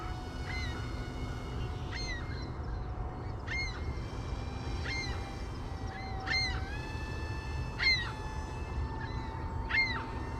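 Seagulls call repeatedly while circling around a flying SU-35 3D RC airplane, their calls arriving one after another every second or two over a steady background rumble, with no talking.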